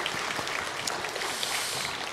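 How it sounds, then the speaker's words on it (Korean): A church congregation applauds its musicians and choir, a dense, even wash of clapping with no clear individual claps, heard at moderate level. "오늘 수고하신 우리 연주자분들과 또 우리 찬양대를 위해서 우리 격려의 박수 한번 해주시죠."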